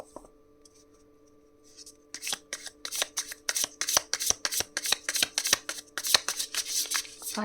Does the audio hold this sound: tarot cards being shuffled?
yes